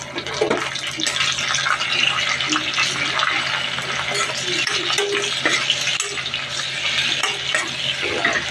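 Chopped tomatoes stirred into a hot pan of onions for Filipino pakbet, a loud continuous sizzle with frequent scraping and clattering of the spoon against the pan, close up and steady.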